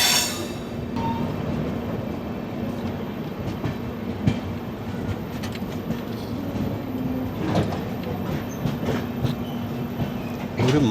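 Steady rumble of a train running on rails, heard from inside an AC 2-tier coach of the 12978 Ajmer–Ernakulam Marusagar Express, with continuous low wheel and carriage noise and occasional clicks and rattles throughout.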